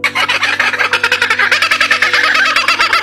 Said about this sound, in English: Laughing Kookaburra.